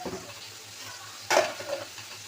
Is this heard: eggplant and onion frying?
yes